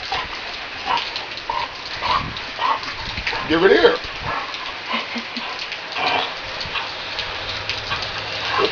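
A dog playing catch in the rain gives short muffled barks with a stick held in its mouth, close by, over steady rainfall, while someone talks to it throughout.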